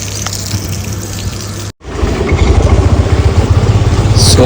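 Water sprays from a hose pipe outside a house, a steady loud gushing rush with a low motor-like hum beneath, broken by a brief silent cut before the spray resumes stronger.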